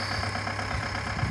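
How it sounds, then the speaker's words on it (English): A tractor engine runs steadily at a low idle-like drone, close and continuous, with a faint higher whine above it and no one talking. "That sounds like a tractor, didn't it, Mum?"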